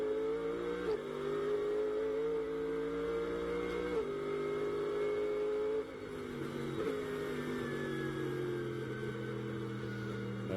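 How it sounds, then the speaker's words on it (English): Onboard CrowdStrike Mercedes GT race car at Sonoma in a Blancpain GT World Challenge America race, engine droning loud and steady with rising revs and abrupt pitch drops at gear shifts through corners. "As we go back on board the CrowdStrike Mercedes of Kurtz and Brown behind the wheel right now."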